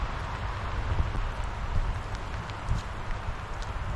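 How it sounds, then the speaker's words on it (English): Steady rain falls in a Mount Hood forest as a constant soft hiss, with occasional faint footsteps and thuds underneath, no voices. "It's been raining all day."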